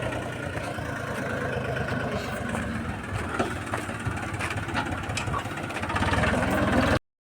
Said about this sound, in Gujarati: ટ્રેક્ટર આવી ગયું જો